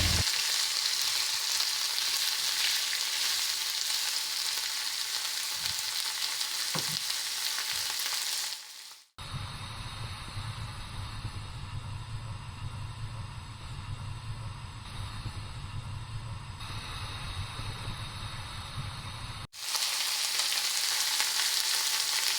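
Chicken frying with gongura leaves in a pan for Telangana-style gongura chicken: a steady, close frying hiss and sizzle with occasional stirring knocks runs throughout, changing in tone midway as the recording cuts, with no talk.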